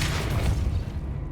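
A Depulso force spell cast in the video game Hogwarts Legacy, a single deep booming blast with a rumbling low-end thump that fills the moment and fades quickly.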